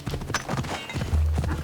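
Horse hooves clip-clopping at a riding pace in the video game Assassin's Creed Odyssey, a quick run of close, distinct hoof thuds with a brief whinny-like tone near the end and no talking.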